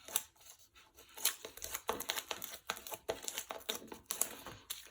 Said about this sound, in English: I'm just going to peel off all of those backs